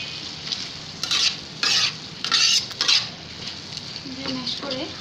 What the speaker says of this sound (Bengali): আলুগুলোকে এভাবে ম্যাশ করে দিব।